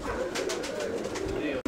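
A pigeon coos from a perch above, a close, loud run of soft repeated throaty coos in a steady rhythm, alone without talk, cut off by a brief dropout near the end.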